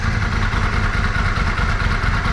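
A Yamaha Virago 535 motorcycle engine, freshly fitted with bigger jets after a fuel leak, runs loud and close with a steady low throbbing rumble.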